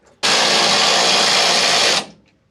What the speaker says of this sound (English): Mike has discovered power tools.